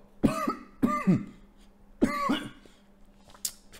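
A person who has been sick for over a week coughs close to the microphone in a few harsh bursts, two quick coughs followed by another after a pause, with a short throat-clearing sound near the end.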